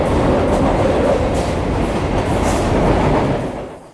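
A subway train runs steadily with a loud, dense rolling roar and faint clatter, holding close and constant before tapering off at the end.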